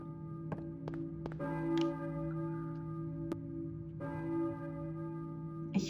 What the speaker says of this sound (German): eine Kirchenglocke vielleicht. Wer läutet die Glocke?